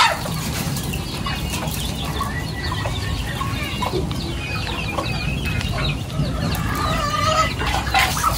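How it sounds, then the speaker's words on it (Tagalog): Several pet chickens cluck and squawk close by in a busy farmyard chorus, with overlapping calls throughout and little else. "libangan lang po ni Bossing na mag-alaga ng mga manok"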